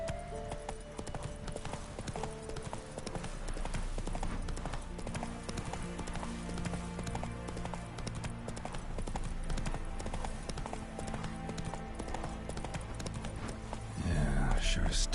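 The horse Roach's hooves clip-clop at a steady walking rhythm in The Witcher III: Wild Hunt video game, continuous and fairly close under game music, with a louder burst of sound at the very end.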